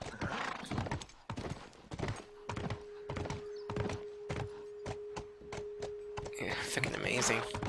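Horse hooves clip-clop in a steady rhythm with a brief whinny during a The Last of Us video game ride, close and fairly loud over a constant background tone, with someone talking over parts of it.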